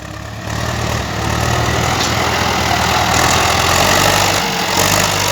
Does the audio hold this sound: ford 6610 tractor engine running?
yes